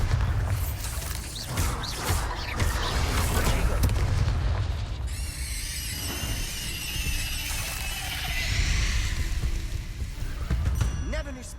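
The Bombarda explosion spell is cast in Hogwarts Legacy, giving a deep boom with rumbling low-end and a shimmering magical tail, among ongoing combat noise and a voice calling out spells.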